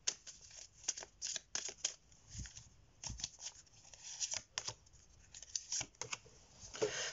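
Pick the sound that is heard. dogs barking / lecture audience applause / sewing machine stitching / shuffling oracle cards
shuffling oracle cards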